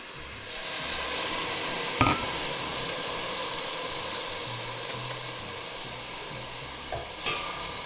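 A constant frying sizzle swells as wine hits the hot frying pan, with a clink of utensil or glass and soft stirring scrapes, close by.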